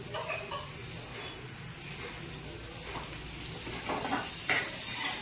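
Onion and green chili frying in hot oil, a soft, continuous crackling sizzle like light rain, rising slightly toward the end with a few sharper pops.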